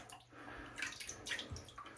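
A wet synthetic Simpson shaving brush is shaken out, giving a couple of quick splashy flicks and drips over a quiet room.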